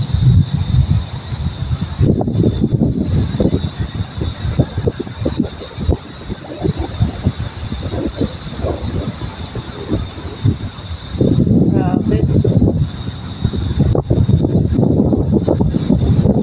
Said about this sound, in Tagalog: Ayan, sobrang lakas po ng hangin.